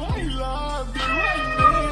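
A cat meows close by, several drawn-out rising and falling cries over a steady background hum.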